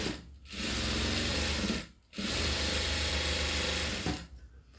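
Sewing machine stitching along fabric lining: three close runs of rapid, even mechanical whirring and clicking, separated by two short pauses.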